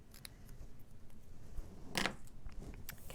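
Scissors cut through card paper during a quiet card-making session, with faint snips and one sharper, louder cut near the middle.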